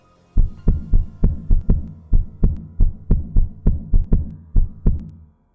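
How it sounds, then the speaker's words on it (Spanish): Heartbeat sound effect, about fifteen deep thumping beats at a steady, brisk pace, loud and close with a low booming resonance, beginning suddenly and ending after the last thump, with no voices. "el latido crecía cada vez más fuerte, más fuerte, más fuerte"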